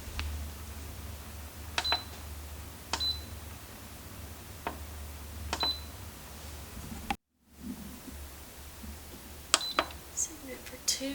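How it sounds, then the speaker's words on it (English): Instant Pot electric pressure cooker giving a series of short, sharp beeps as buttons are pressed to set its timer, scattered irregularly over a quiet room hum with a brief dropout midway. "I'm going to set the timer for 2 minutes."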